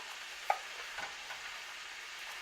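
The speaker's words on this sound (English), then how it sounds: "And I'm going to stir that in." Old Bay seasoning stirred into a pot of seafood gumbo on medium-high heat: a faint, soft simmering hiss with one sharp spoon clink and a light scrape, quiet and close.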